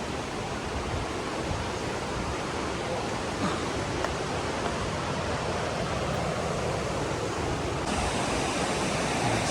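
A river flows steadily beside the bank in a Kohistan valley, giving a constant broad rushing wash of water that stays even and unbroken throughout.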